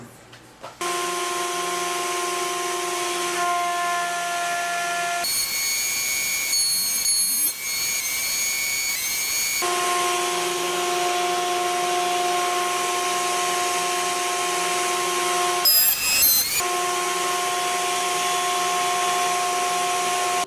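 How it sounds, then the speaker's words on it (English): A planer smooths both faces of a glued-up end grain cutting board. A steady machine hum runs throughout, broken by two harsher roaring cutting passes, one of about four seconds and a shorter one later. "I'm going to run it through the planer both sides just to smooth everything out."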